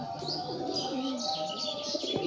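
Giribaz pigeons coo in soft, rolling bursts close by, several overlapping calls rising and falling with faint chirps mixed in.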